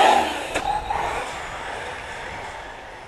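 A Team Associated RC8TE radio-controlled car with a Mamba brushless motor runs on a 5S LiPo battery, its motor whirring loudly at first and then fading as it drives away along a road.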